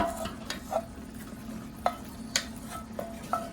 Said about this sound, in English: now we're gonna add the 2 onions and the 1 green pepper that we sauteed